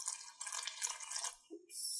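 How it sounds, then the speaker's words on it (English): Water is poured onto flour for a sourdough starter, a brief close splash and trickle that stops and then resumes for a moment. "you put 100 grams of water on top of it."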